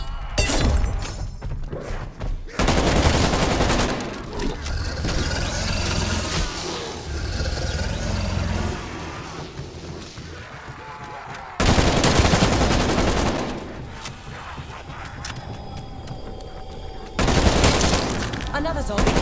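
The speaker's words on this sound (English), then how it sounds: "Another assault rifle." Assault rifle fire in Call of Duty Cold War: loud bursts of rapid automatic shots, with breaks between them and mixed with other game noise, shattering sounds and engine rumble.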